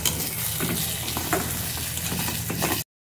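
Spice masala mixed with sour yogurt sautéing in hot oil, a steady close sizzle and crackle with soft stirring scrapes running unbroken for about three seconds, then cut off abruptly.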